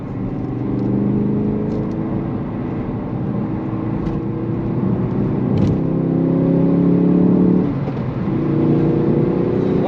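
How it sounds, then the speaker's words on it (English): Ford Focus RS hot hatch driven on country roads, its engine and exhaust droning steadily from inside the cabin, rising and falling with revs and gear changes, fairly loud and without talk. "The noise coming out of the exhaust is brilliant."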